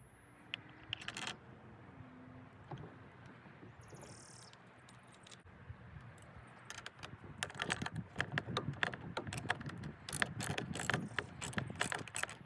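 Metal clicks and a ratcheting tool sound as a nut is fastened onto the wheel of a Chapin 8622B tow-behind turf spreader. Sparse clicks at first, then a dense run of fast, close mechanical ticks.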